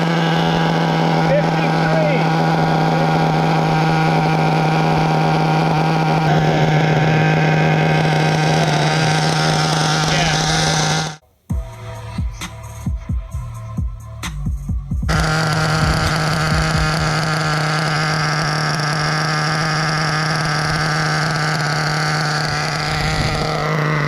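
A nitro RC buggy engine running on 30% nitro fuel screams at top speed in a loud, sustained high-pitched whine, briefly cutting out midway before roaring back, with a voice talking.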